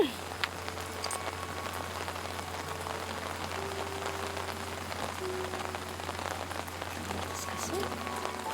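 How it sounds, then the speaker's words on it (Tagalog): Heavy rain pours down in a steady, unbroken wash that holds constant throughout, with faint voices barely audible beneath it. "Lakas naman ng ulan."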